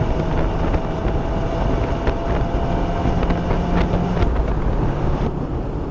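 A 2022 Subaru WRX Premium accelerating hard under a full pull, a steady loud engine drone mixed with heavy wind and road roar from inside the car.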